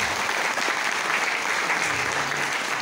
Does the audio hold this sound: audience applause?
yes